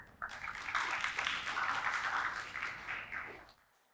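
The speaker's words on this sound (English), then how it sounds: "Let's give them a big round of applause." A school audience applauds a student presentation team at a science competition finale, a short burst of clapping that rises quickly, holds for about three seconds, then cuts off.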